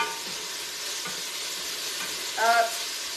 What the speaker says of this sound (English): Give this one quick stir.